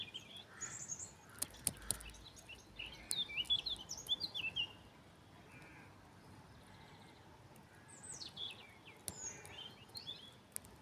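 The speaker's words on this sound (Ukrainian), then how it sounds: "Ще й пташечки співають." Scattered bird chirps and short song phrases, faint and distant, rising and falling over a quiet outdoor hush in a spring meadow.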